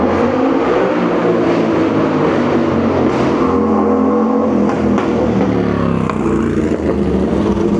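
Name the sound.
supercar or high-powered motorbike engine revving in street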